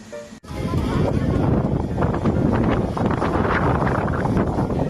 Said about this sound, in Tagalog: Ang lakas ng hangin at Benny at ang lamig.